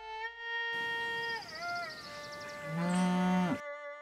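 A cow lets out a long, drawn-out moo that rises into a loud, strained bellow toward the end, heard alone with no talking, against a faint hum.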